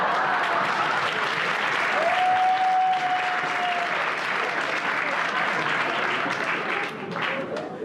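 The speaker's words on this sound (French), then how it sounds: "Je le dirai à des proches que vous l'avez applaudi" A comedy show audience in a theatre claps in sustained applause that holds steady, then thins and tapers off toward the end.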